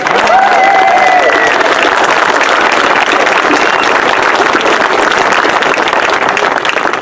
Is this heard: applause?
yes